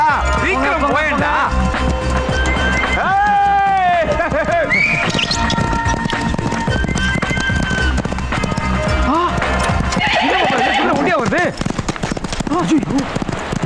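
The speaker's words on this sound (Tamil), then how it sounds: "என்னடா ஜோடியை கூட்டு போன குதிரை எம்டியா வருது?" Horse hooves trot with a steady clip-clop in a Tamil comedy film scene, mixed under loud music and several voices talking.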